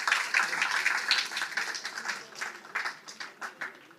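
Thinning audience applause for an engineer at an alumni meet, starting as a dense patter and tapering into scattered individual claps toward the end.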